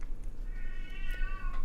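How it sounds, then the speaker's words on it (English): A house cat meows once, a drawn-out tonal cry rising over a low steady room hum, moderately close and without speech. "That's the cat."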